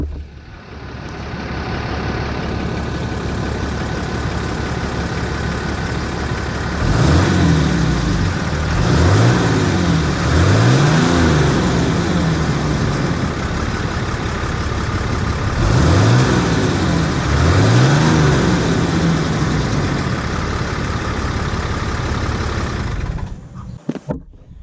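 A pickup truck engine before emissions deletes, idling steadily then revved in two bursts of quick repeated throttle blips, loud and close, with no talk.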